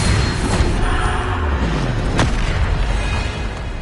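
Bombarda spell explosions during Hogwarts Legacy combat, loud close booming blasts with a sharp hit near the middle, over a dense, continuous battle din.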